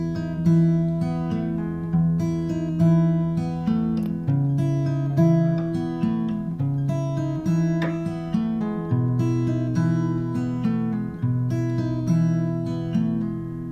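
Chord shapes ring out on an acoustic guitar, each plucked or strummed and left to decay before the next, in a slow, even rhythm with no talking.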